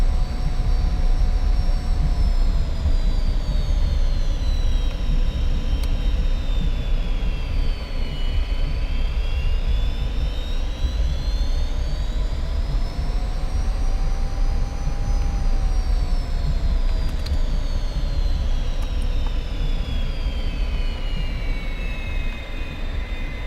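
An F-86F Sabre jet engine runs continuously at close range, a loud steady roar with a high whine that slowly rises and falls in pitch throughout.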